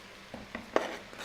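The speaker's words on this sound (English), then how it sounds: "We'll go ahead and add this now to our ground beef mixture that's had a chance to kind of saute" Eggplant goes into a large pot of sautéing ground beef and is stirred, giving a few short scraping clacks of a spoon against the pot over a low, soft sizzle, all over in about a second.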